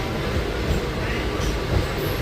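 A Mumbai AC local train at Andheri station gives off a steady, loud rumble of running wheels and motors, close by, with broadband noise throughout.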